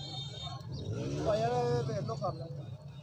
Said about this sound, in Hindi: ये भाई के कबूतर हैं